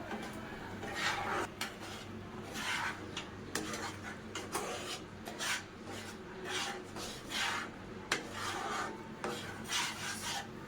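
A sweet mixture for an Eid dessert is stirred nonstop in a pan until dry, giving repeated scraping, rasping strokes of a utensil against the pan, close and fairly quiet with no voices.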